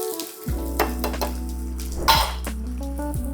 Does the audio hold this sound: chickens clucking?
no